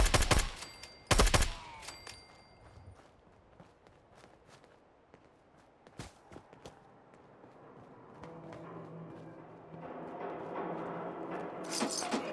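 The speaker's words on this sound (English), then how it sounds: "I hope you like bullets, Joe." Fallout 4 video game gunfire, with a couple of loud sharp bursts near the start and scattered thinner shots later, over footsteps and a rising mechanical din toward the end.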